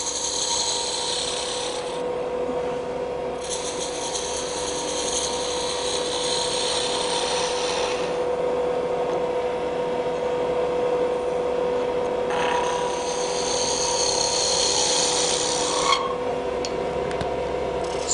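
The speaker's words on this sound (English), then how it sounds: "we take the gouge in at its side at the conclusion of the cut there" A woodturning gouge cuts a spinning workpiece on a lathe, giving a steady rasping scrape that swells and eases with each pass, close and continuous with no talk.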